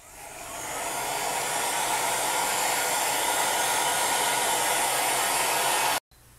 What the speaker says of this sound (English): I'm going to use a heat gun on my lowest heat setting